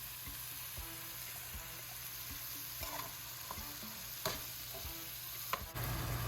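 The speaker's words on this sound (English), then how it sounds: "So I've got the Angus beef added to the pot." Angus beef cooks in a pot, giving a quiet, steady sizzle with faint scattered pops and light stirring clicks.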